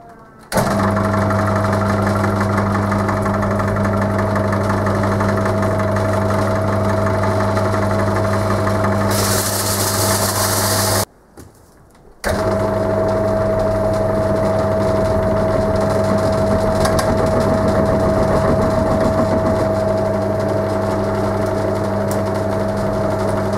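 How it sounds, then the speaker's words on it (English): A wood lathe spins steadily while a workpiece is sanded with 180 grit sandpaper to reduce its diameter, giving a continuous motor hum and whine with a brief drop-out partway through, close and loud, no voices. "So the plan is to set the lathe going and use the sandpaper to reduce the diameter a bit with 180 grit"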